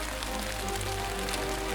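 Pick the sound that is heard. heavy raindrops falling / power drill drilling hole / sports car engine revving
heavy raindrops falling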